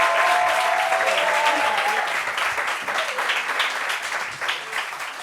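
Studio audience applause for a young woman guest on a French-language talk show, loud and dense clapping from a crowd that starts strong and tapers slightly, with a faint tonal sound audible early on.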